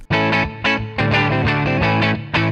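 Electric guitar through Cubase's VST Amp Rack on a Twin Reverb preset, with amplified, slightly driven tone, plays a busy riff of repeated notes and chords, warm and close with some reverb.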